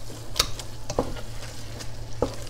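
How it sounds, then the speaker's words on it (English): Vegetables for clam chowder cook in a pot over medium heat, a steady soft sizzle under several sharp clicks and scrapes of a utensil stirring, close and alone without speech. "You want to cook this over a medium heat until the vegetables are tender."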